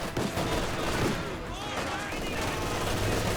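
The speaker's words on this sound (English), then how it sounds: "M180 gun misses there." M180 gun firing in the real-time strategy game Company of Heroes 2, a dense continuous wash of battle gunfire and explosions throughout, with a commentator talking over it.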